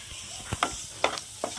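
A spatula stirs vegetables frying with onion and turmeric in a pan for chira pulao, with capsicum already in. Four or five short scrapes and knocks sound close over a faint, steady sizzle, with no voices.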